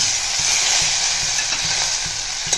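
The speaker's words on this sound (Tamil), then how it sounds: "இப்போது இதில் நம்ம எடுத்து வச்சுருக்கிற பச்சை மிளகாவையும் கருவேப்பிலையும் சேர்த்துக்கலாம்" Green chilies and curry leaves sautéing in hot oil produce a loud, steady sizzle, with faint stirring taps underneath.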